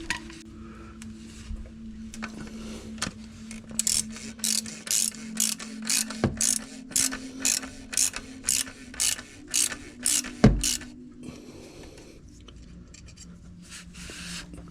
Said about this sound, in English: we'll just get our little socket on it